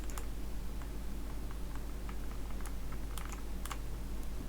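Rapid, light keystrokes on a computer keyboard click in an irregular patter over a steady low hum, close and fairly faint, with no one talking.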